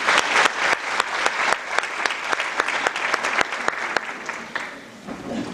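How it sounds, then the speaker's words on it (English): Audience at a Lions Club Chamber Citizen of the Year banquet bursts into sustained, fairly close applause, dense clapping with sharp individual claps standing out, holding steady before easing slightly at the end. "let's give them a round of applause."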